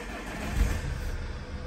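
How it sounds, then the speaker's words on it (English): A Vauxhall Insignia VX Line SRi car's engine turns over and fires up inside the cabin, a brief low rumble that settles into a steady idle. "If we just fire up the car"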